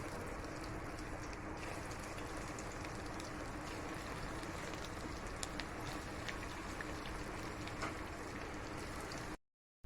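Aloo chop potato fritters frying in hot oil, giving off a dense, steady crackling sizzle that holds at an even level throughout, with no voices.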